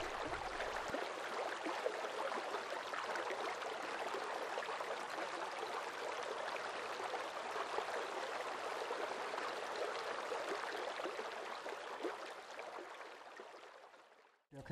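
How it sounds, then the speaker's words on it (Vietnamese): Steady broadband water rushing and lapping across a flooded village in Hải, continuous and fairly even throughout with no voices, fading out at the very end. "đâu đó vẫn còn tiếng nhấp nhô của sóng nước"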